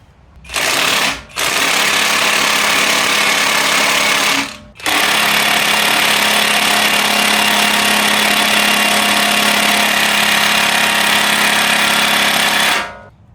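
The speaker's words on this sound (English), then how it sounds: "Gonna see if I can use the drill instead." A loud power drill whirs in three long bursts, stopping briefly between them, with a steady high motor whine close by, removing an axle bolt on a 2013 BMW X3 F25.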